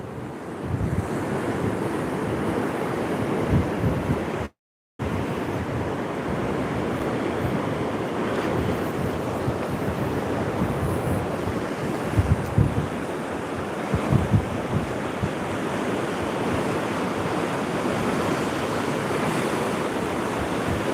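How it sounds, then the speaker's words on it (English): Strong wind buffeting the microphone at Fast Castle, a loud continuous rumbling roar with surging gusts, briefly cut out once, no voices. "it's extremely windy here. You may hear that on the mic."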